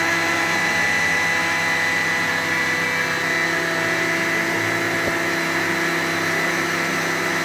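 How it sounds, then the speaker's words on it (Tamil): A mixer grinder whirs steadily while blending an Oreo milkshake with ice cream, a loud, constant motor drone with no pauses or talk. "இப்போ நான் வந்து ஓரியோ மில்க் ஷேக்கை இப்போ நம்ம போட்டதெல்லாம் இப்போ அரைக்க போகிறோம்"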